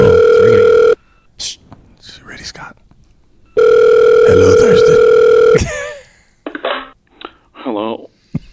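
A telephone ringing on an outgoing call gives two long, loud electronic rings with a gap between them, and people whisper and talk quietly between the rings.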